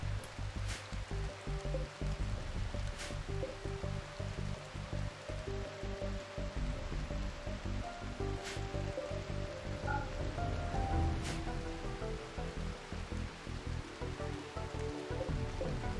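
Rain falling in the colony-sim game RimWorld at night, a soft continuous patter with a low watery rush underneath, steady and fairly quiet throughout.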